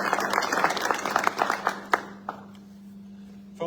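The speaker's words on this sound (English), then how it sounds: "Let's give them a round of applause." Applause from an audience at a military change of responsibility ceremony, a brisk round of close clapping that thins to a few last claps and dies away into a quiet hum, with a steady low tone throughout.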